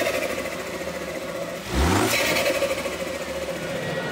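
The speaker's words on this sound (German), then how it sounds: "Und das Turboflattern, was man so vom Supra kennt, das kommt hier extrem raus." A tuned Toyota Supra's engine runs close by, then a sharp rev surges and falls away into fluttering turbo chatter as the revs settle again.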